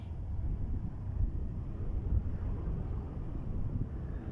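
Wind buffets the microphone while someone walks along a road, a soft, continuous low rumble with slight gusty swells and no speech.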